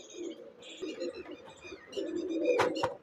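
A pigeon from a champion-bloodline breeding pair coos close by in a few soft, throaty phrases, with brief wing or movement noises toward the end and no talking.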